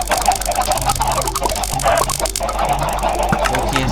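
Chickens clucking on a Minecraft chicken farm in version 1.12.2, with repeated close, overlapping clucks and squawks from several birds, continuous and fairly loud.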